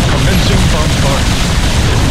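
Bombardment from a battlecruiser in the video game StarCraft 2 gives a dense, loud, continuous roar of explosions and rapid fire that fills the whole stretch without a break.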